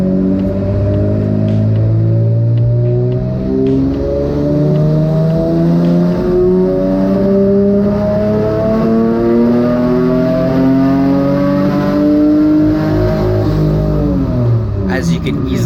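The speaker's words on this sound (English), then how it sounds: "the engine was running brutally. It was breaking up really, really bad." A turbocharged engine in a twin-engine MX3 revs on a dyno, a loud continuous roar with harmonics climbing steadily as it pulls, rough and breaking up, then dropping off near the end.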